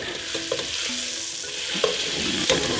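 A steak browns in butter in a hot pan for beef barley soup, giving a steady close sizzle with a few soft scrapes and clinks as it is moved, and no voices.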